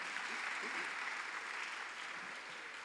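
A church congregation at a family worship service applauds with a steady, fairly soft ripple of many hands clapping, heard from some distance and easing slightly toward the end.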